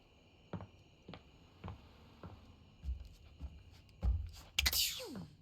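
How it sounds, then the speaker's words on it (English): A game character in the dating game Date Everything sneezes and sniffles, a few short bursts leading to a louder final sneeze, heard without speech against a soft background hum. "Medical professional Faria is always just a sniff, sneeze, and groan of discomfort away."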